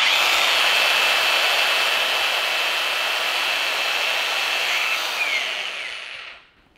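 A Vrill VAG2100 cordless brushless angle grinder runs at a loud, steady, high whine for several seconds, then spins down and fades out at the end.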